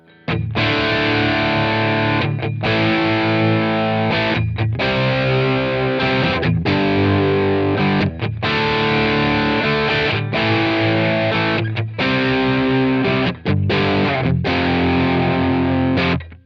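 Heavily distorted electric guitar through a Friedman IR-D preamp pedal at highest gain with tight switch on, into a Marshall 4x12 cab IR, playing chunky riffs with brief stops between phrases, loud and close with no voices.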